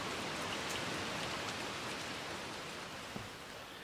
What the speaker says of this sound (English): Wind, rain, and snow finally returns to Northern California